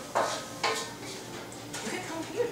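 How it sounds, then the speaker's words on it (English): Food stirred in a pan over slightly raised heat, with a few scraping clinks of utensil against the pan spread across a short stretch, fairly quiet with a soft background. "Then you just keep stirring."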